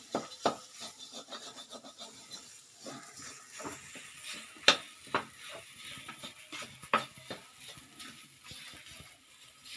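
Gujiya filling sautéed on a low flame, with soft, irregular scraping and rubbing strokes of a spoon against the pan, quiet and close, no talking.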